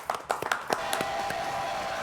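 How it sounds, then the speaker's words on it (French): A studio audience on a French television show claps, starting with a few sharp separate claps that merge into steadier, moderately loud applause. "Applaudissements."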